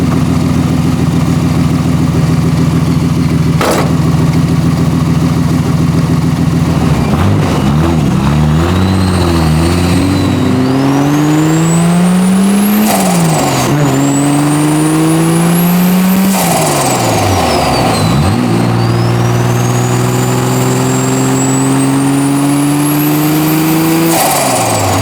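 A rusty turbocharged Datsun Z with a 300 hp L28 engine idles with a rough, loud drone, then pulls away, revving up through several gears with rising engine tones and a high turbo whine between shifts.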